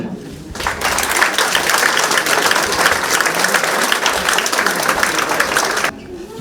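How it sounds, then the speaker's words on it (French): Sustained applause from an audience at an exhibition opening, honouring the children whose drawings thanked healthcare workers; dense and even for several seconds before stopping abruptly. "Je pense qu'on peut les applaudir."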